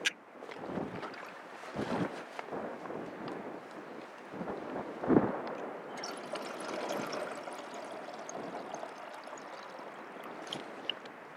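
Wind buffets a microphone outdoors in the mountains in uneven gusts, with rumbling bursts and a faint watery rush behind it.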